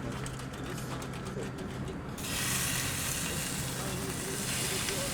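Sashimi-grade tuna sears in a hot pan with a steady hiss that swells into a louder sizzle partway through, while someone speaks French over the cooking.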